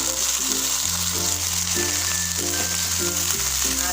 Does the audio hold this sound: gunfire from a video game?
no